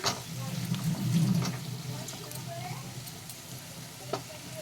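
A pan of egg paneer fried rice with carrots and beans being stirred gives a low sizzle and scraping, with a few clicks of the spoon, while a voice talks briefly near the start.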